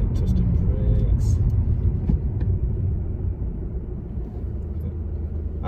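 A learner car rolls slowly along a road on a driving test route, giving a low steady road rumble and tyre noise that eases off gently.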